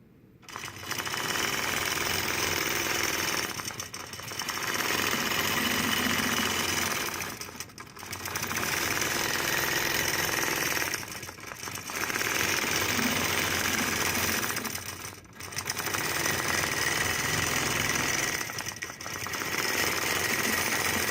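A longarm quilting machine stitching a knot, its rapid mechanical needle hum running in steady bursts of about three seconds separated by brief pauses, close and loud with no talking.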